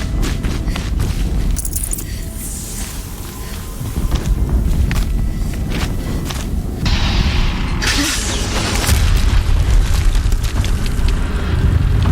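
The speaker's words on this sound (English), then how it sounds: "Another explosion." Explosions in Horizon Zero Dawn give loud, heavy rumbling booms that roll on through the whole stretch, with sharper bursts and crackling debris swelling in several waves.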